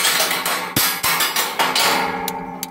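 Metal hammering with sharp, ringing clangs struck in an uneven rhythm, about eight or nine blows, close and loud, with no voices.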